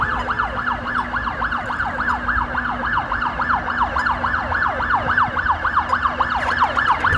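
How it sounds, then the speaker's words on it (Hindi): Fire brigade truck siren wailing close by in a rapid, regular up-and-down sweep that holds steady and loud for the whole stretch, over low traffic rumble on a Melbourne street. "ओ, फायर ब्रिगेड आ रही है, पहले फायर ब्रिगेड को जाना देना पड़ेगा।"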